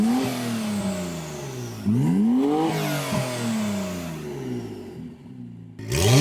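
Acura NSX fitted with an aftermarket exhaust accelerates hard, its engine note climbing in repeated rising sweeps with brief dips between shifts, loud and close throughout before a sharp burst at the end.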